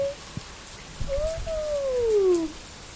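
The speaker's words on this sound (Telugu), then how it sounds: "వర్షం పడుతుంది." Rain falls at night as a faint, steady patter, and a thin whistling tone glides downward partway through; no one speaks.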